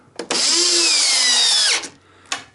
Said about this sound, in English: an electric screwdriver.